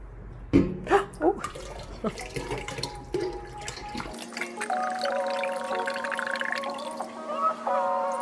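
Water pours steadily into a bucket, mixed with 3% hydrogen peroxide, the splashing sound shifting to a rising, hollow fill tone as the vessel fills, with a few clunks at the start.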